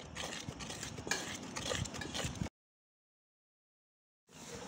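Maida flour is stirred into biscuit dough in a bowl, close, soft scraping and clinking stirring strokes in an irregular rhythm, then a pause of silence before the mixing resumes.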